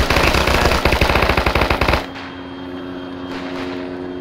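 Rapid machine-gun fire in the video game Arma, loud and close for two seconds of fast repeated bursts, then cut off, leaving a steady rotor drone of a helicopter hanging in the quiet.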